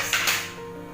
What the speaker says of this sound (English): Like this I am adding ice cubes.